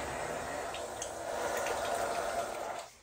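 Water rushing out of a water heater's open drain valve into a drain, a steady close splashing flow that cuts off near the end.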